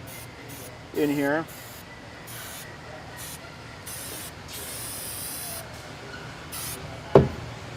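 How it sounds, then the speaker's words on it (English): 74 spray adhesive from an aerosol can misted onto tubing, short hissing bursts repeated several times, close but fairly quiet, with brief speech and handling noises. "I'm just going to spray some 74"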